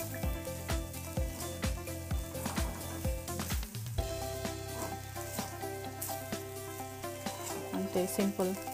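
Okra (bendakaya) being stirred as it fries in a pan for a Telugu-style fry, with steady sizzling throughout, rhythmic scraping strokes of the spoon at first, then a continuous close frying hiss.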